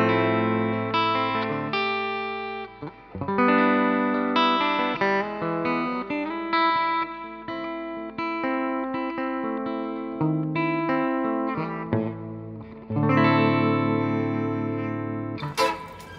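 Clean tone from a Kazuki Telecaster electric guitar on its bridge pickup, played continuously with strummed chords and picked notes, loud and close, with no talking over it.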